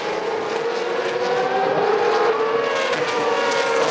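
Formula V race cars run at the Hungaroring on lap 2, with loud, continuous engine drone and rising revs as a pack passes close together, no voices heard.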